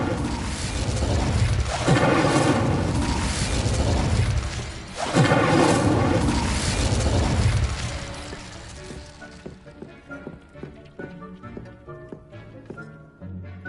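An Incendio fire spell cast in the Hogwarts Legacy game erupts in two loud roaring bursts with heavy rumble, one near two seconds and another near five, then gives way to quieter clattering tones and music.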